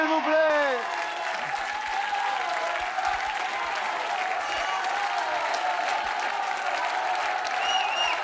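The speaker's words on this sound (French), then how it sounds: "On les applaudit fort, s'il vous plaît." A television game show studio audience gives sustained, loud applause that holds steady the whole time, with a voice briefly heard at the very start.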